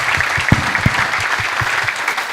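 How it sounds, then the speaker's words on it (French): A conference audience applauds a speaker at a Moroccan industry and digital transformation event, with steady dense clapping sustained throughout and a few sharper claps standing out. "Applaudissons très fort, Madame Belkziz, s'il vous plaît."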